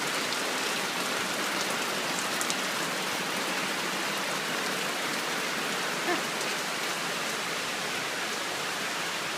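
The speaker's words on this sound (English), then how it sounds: "Raining in the rainforest." Steady rain falls in a Costa Rican rainforest, an even, dense hiss of drops that holds constant and fairly loud for the whole stretch, with no voices.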